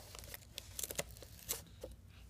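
Crinkly plastic foil being torn open around a Funko My Little Pony mystery mini blind box, a few quick rips and crumples in bursts, close and fairly quiet.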